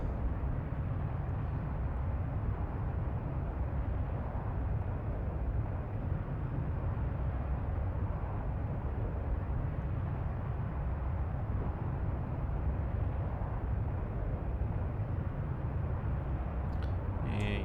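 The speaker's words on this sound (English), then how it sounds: "let's just do a rolling takeoff here. Full afterburner, so why not?" An AJS-37 Viggen jet on full afterburner during a rolling takeoff in the DCS flight simulator gives a steady, loud, deep roar that holds constant throughout, with no talk over it.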